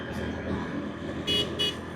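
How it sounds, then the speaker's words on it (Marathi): A small motorcycle horn gives two short, high toots about a third of a second apart, close by, over a steady engine and road rumble on a ride to Shivneri. "हॉर्न बिन लागला वाजायला."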